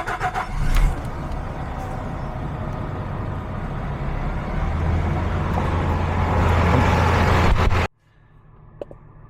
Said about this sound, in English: We'll just start the truck.